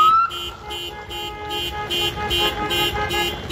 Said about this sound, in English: Set off somebody's car alarm.